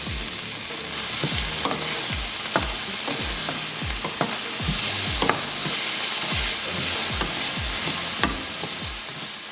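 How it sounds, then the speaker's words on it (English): Vegetables with parsley and frozen bell peppers sauté in a pan, giving a continuous loud sizzle punctuated by regular scraping stirs of a utensil every second or so, with no voices. "Saute the veggies for 10 minutes until they caramelize."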